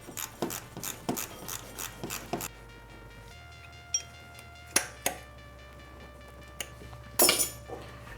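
Ratchet tightening the power steering pump bolts on a 2003 Honda Accord: a rapid series of sharp clicking strokes, then a pause with a few isolated clinks and a final flurry of clicks, close by and with no talk.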